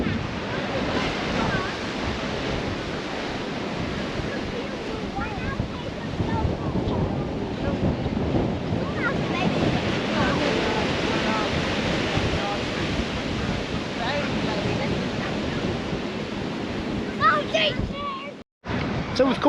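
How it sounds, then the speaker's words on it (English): Blustery wind buffets the microphone at the end of a seaside pier, with a constant roar of waves and surf below, loud and unbroken, a voice speaking underneath. "So we're down at the end of the pier. Oh, it's blustery,"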